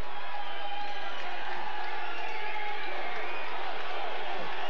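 A 1990 football stadium crowd roars in support of the home defense on a fourth down, a broad continuous wash of cheering and whoops at steady loudness, heard from within the stands.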